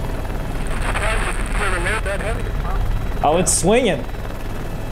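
A military helicopter hovers in gusty wind, its rotor drone steady and loud under excited commentary, with sharp whining tones near the end.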